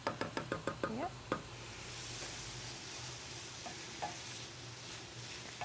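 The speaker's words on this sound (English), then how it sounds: "the bacon's now starting to brown a little bit" Bacon frying in a pan for pasta carbonara, a series of quick knocks and stirring taps at first, then a soft continuous sizzle that carries on fairly quietly.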